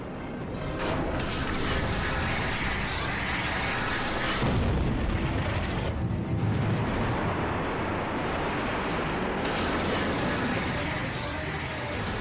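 A jet fighter's guns fire at a MiG in an aerial dogfight over mountains: a dense, continuous roar of engine and rapid cannon bursts, loud and close throughout.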